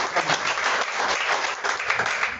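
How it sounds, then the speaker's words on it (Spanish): A church congregation applauds loudly, a dense, continuous burst of clapping from many hands that holds steady throughout. "Pégale un fuerte aplauso."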